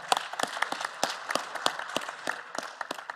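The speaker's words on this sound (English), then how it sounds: "please give a hand clap to yourselves for participating so well" Sparse, scattered clapping from a modest audience at the close of a panel session at the IUCN Africa Protected Areas Congress, fairly faint with distinct individual claps in an uneven rhythm.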